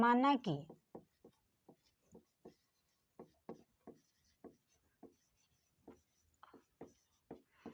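Pen writing on paper during a class 10 maths lesson, heard as a series of short, close scratchy strokes in an irregular rhythm after a brief opening voice.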